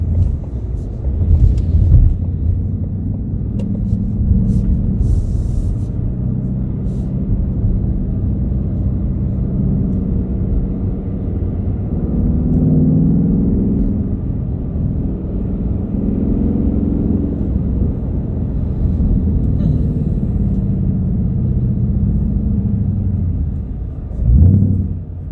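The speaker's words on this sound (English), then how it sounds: "Sounds so angry when you get that rev match." A 2020 Ford Mustang GT Performance Pack 2 V8 engine rumbles steadily from inside the cabin while driving around a roundabout, with a brief rising rev-match blip near the end; no talk.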